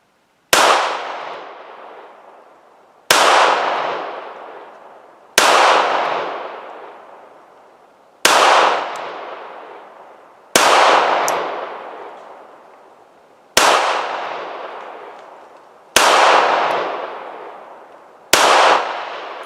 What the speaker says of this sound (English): Nice control of the gun, good steady pull on the trigger